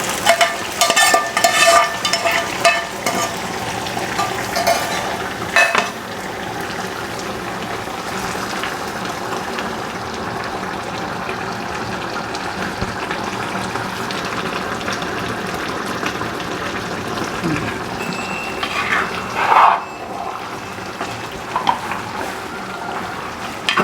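Tempering being poured into a pot and stirred at home during a Bhogi festival cook-up, producing a loud, steady sizzle and frying hiss with scraping stir clatter early on, close and continuous, with no talking.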